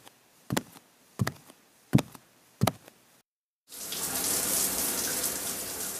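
Four evenly spaced knocks sound, a short pause follows, then shower water starts running in a steady, loud, hissing spray for the remaining seconds.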